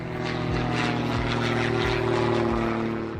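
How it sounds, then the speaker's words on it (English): A Stinson propeller plane roars on a short field takeoff near trees, its engine a loud steady droning buzz with a rhythmic pulsing beat that swells slightly toward the middle, with no voices. "A Stinson registered in British Columbia, Canada, narrowly escapes the grab of trees on short field takeoff."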